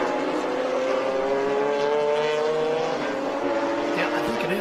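A 1973 Porsche 911 race car at a Porsche Rennsport Reunion event, its engine howling loudly and holding a rising tone as it passes close by, with people talking over it.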